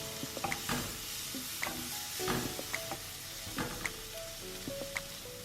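Chopped tomatoes are stirred into a sizzling egg masala in a pan, a soft continuous frying hiss under repeated close scraping and clinking strokes of a spoon, with no voices.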